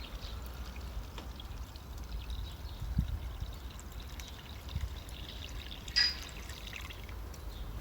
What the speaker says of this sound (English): I can fill this lake with water